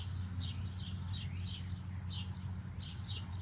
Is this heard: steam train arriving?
no